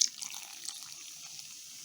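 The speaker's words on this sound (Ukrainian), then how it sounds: "нам потрібна один стакан газованої води. Я вже відміряла, сюди виливаю" A glass of sparkling water is poured into a bowl for dumpling dough, a soft, close liquid stream that flows steadily and quietly for a couple of seconds.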